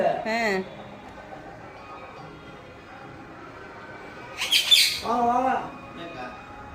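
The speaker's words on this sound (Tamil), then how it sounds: "பக்கத்து வீட்டுல உள்ள கிளி வந்து இங்க உட்காந்துட்டு இருக்கு" A neighbour's parrot giving short squawking, warbling calls at the start and again near the end, with a shrill burst in between, over quiet background sound.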